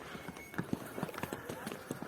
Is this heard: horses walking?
yes